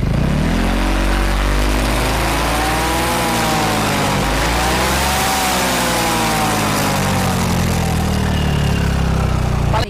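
A Yamaha XMax scooter engine, bored up to 300cc, revs up and down through a low-noise aftermarket exhaust, steady and close, with rising and falling pitch over several throttle blips.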